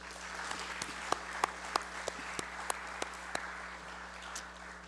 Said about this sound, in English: give all Southern Harmonious people who are observing our session this morning a collective round of applause